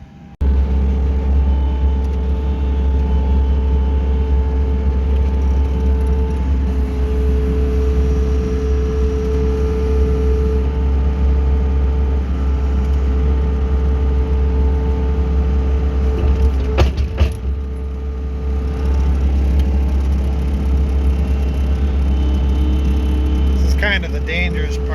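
A tractor engine rumbles steadily and loudly as it moves a TMR feed mixer for a beef herd, a constant low drone with occasional clanks and creaks, and speech is faintly present beneath it.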